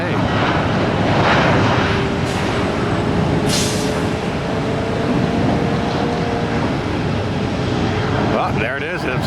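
An American Airlines Airbus A320neo begins its takeoff roll below, a broad steady jet engine roar with a rising whine, heard from a distance and sustained throughout the clip, with a person speaking over it.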